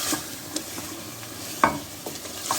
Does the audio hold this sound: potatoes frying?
yes